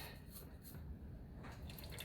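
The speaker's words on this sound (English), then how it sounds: "I'm catching that oil off the oil filter." Engine oil dripping from the oil filter of a CFMoto ZForce 600 into a drain pan, a faint, steady patter of drips under a low hum of background noise.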